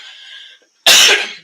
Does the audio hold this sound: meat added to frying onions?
no